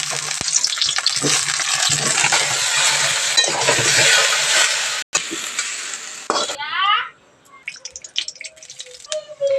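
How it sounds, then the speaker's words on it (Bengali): Eggplant fries in oil in a wok over a village clay stove, a loud, dense, steady sizzle that cuts off after about six seconds, leaving quieter chirps and faint clicks. "এসে গেছি উনুনে, মেজে কড়াই তেল দিয়ে বেগুনটাকে লাল লাল করে ভেজে নেবো।"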